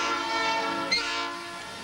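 A train on a 1996 railfan convention excursion rumbles past with a sustained horn-like tone that briefly swells and then fades, steady rail noise underneath.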